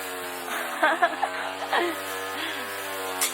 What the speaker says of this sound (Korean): 생각보다 잔디 깎는 소리가 너무 커요, 지금.